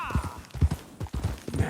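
Horse hooves clopping in a steady galloping rhythm in the Western video game Red Dead Redemption 2, close and moderately loud, with a brief bit of voice near the end.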